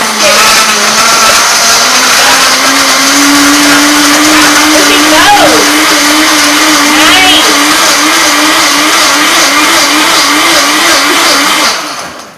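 A blender whirs loudly and continuously, its motor pitch rising slowly as it grinds through ice, then cutting off at the end.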